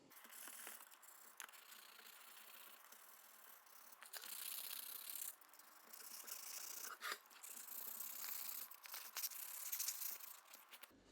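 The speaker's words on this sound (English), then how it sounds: "let's sand it down and get it ready for paint" Hand sanding of a glued wooden crown moulding joint being readied for paint, a quiet, close scraping and rubbing that continues in uneven strokes throughout.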